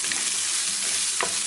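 Cheesesteak meat with onions and peppers fries in a pan with a dense, steady hiss and crackle, heard close with no voices over it.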